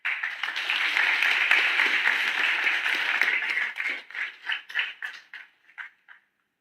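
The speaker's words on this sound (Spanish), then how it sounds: "Un aplauso, por favor." A small crowd applauds, dense clapping that holds steady for a few seconds and then thins into scattered final claps before stopping.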